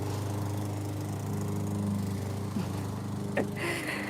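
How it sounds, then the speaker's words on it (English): A lawn mower drones steadily nearby, its engine holding a constant loud hum from start to finish with a brief higher whine near the end. "mowing their lawn"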